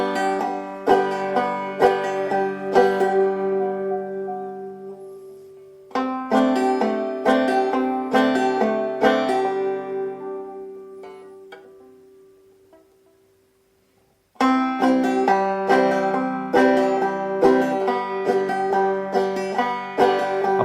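Bright plucked clawhammer banjo notes in a brisk frailing strum, played in bursts with a long fading pause partway through before the playing resumes.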